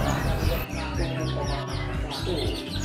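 A young white-rumped shama (murai batu) songbird sings close by in a rapid series of sweeping whistles and chirps, with a voice talking underneath.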